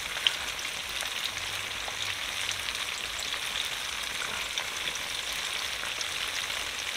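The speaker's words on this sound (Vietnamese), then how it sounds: "Cái tàu hũ thì mình chịu khó mình chiên lại cho nó ngon." Tofu frying in a pan outdoors in a field, a steady close crackling sizzle with fine popping throughout, no one speaking.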